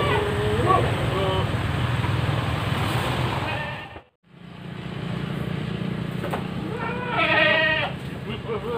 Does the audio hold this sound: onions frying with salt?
no